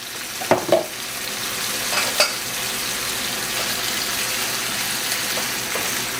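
Blended herbs cooking in a pan for Cajun shrimp pasta, a steady close sizzle with a few sharp utensil knocks early on, then an even hiss with no talking.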